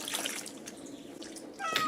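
A pet cat gives a few short, close meows over faint trickling water, with a sharper chirping call near the end and no speech.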